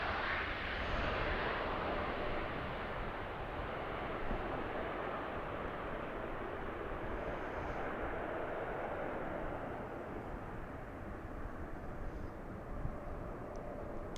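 A jet airliner takes off from Amsterdam Schiphol Airport, its engine producing a broad, steady distant roar that slowly fades, heard alone and outdoors with a little wind.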